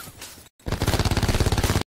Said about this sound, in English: You're just shooting into the sky.